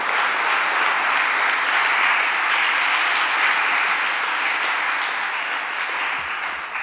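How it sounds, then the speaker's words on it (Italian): An audience at a talk on health as a fundamental right gives a professor a big round of applause: dense, even, continuous clapping that holds steady for nearly seven seconds and eases slightly at the end. "invito a fare un grosso applauso al professore"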